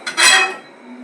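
A lid is set down over a pot of chicken curry in a village kitchen, giving a short bright metallic clatter that rings briefly and fades to quiet.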